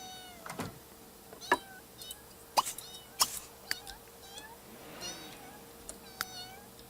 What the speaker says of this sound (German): Ja, die Katze jault noch.